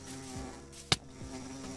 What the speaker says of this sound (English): that's a bee!